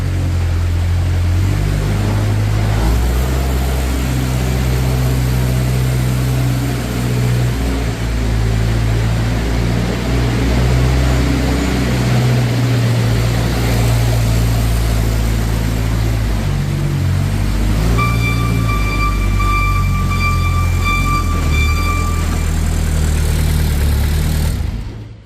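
A 2014 Moffett M55 truck-mounted forklift drives around a shop, its engine humming steadily at a loud, constant level with a low rumble, and a high whine appears toward the end.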